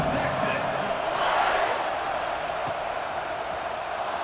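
A stadium crowd roars in an American college football video game around a kickoff, a dense, steady wash of cheering that swells slightly in the middle and holds throughout.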